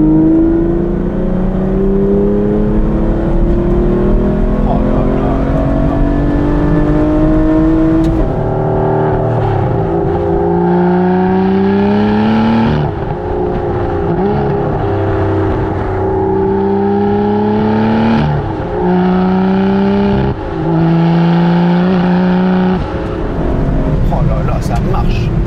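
Aston Martin V12 Vantage S V12 engine accelerating hard through fourth gear with exhaust valves open, a loud rising howl that climbs and drops with gear changes, with someone talking over it.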